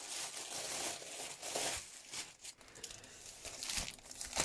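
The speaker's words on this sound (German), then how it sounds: "Raschel, raschel, raschel." Crinkly plastic packaging rustles and crunches up close while diamond painting supplies are unboxed, a continuous stretch of crumpling and crackling with a few sharper bursts.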